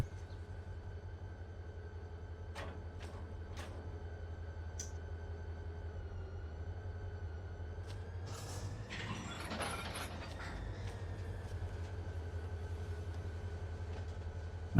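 Rail cars roll along in the Run 8 Train Simulator game under a steady low rumble, with a few faint clicks and a brief louder clattering stretch midway, continuous and even throughout.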